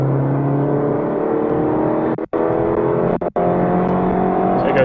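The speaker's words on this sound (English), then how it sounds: "So it goes right up the rev range." A 2017 BMW 430i M-Sport Cabriolet with a 2-litre twin-turbo engine revs up through the range on an empty road, a loud rising drone broken by two brief gear-change dips.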